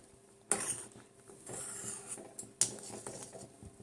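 Amul milk simmering in a pot for carrot halwa is stirred by hand, giving faint, uneven scrapes and two sharper metallic clinks of the spoon against the pot over a soft background.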